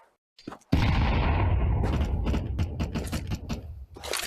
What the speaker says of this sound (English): Throwing a flashbang. Grenade out.